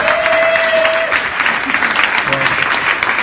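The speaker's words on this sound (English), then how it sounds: "please big round of applause for George." An audience at a startup pitch night bursts into sustained applause after a pitch, a dense, loud wash of many clapping hands with a brief tonal note near the start and faint voices underneath.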